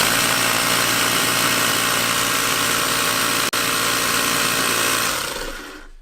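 A Ryobi P737 18-volt cordless power inflator fitted with a blower tip runs loud and steady at close range, then winds down at the end.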